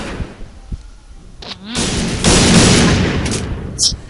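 Close, loud bursts of AK-201 rifle fire in the shooting game Point Blank, sharp sporadic shots giving way to a dense rattling volley, with game effects between.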